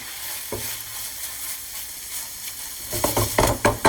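Chopped meat fries with tomato paste for a Greek-style pasta sauce, a low steady sizzle that swells into louder scraping stirs and spoon clatter near the end, no talking.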